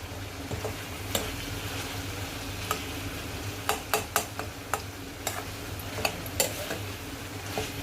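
Ridge gourd being stir-fried in a pan with a light steady sizzle, broken by several sharp spoon-and-pan taps and scrapes, close and alone with no voices.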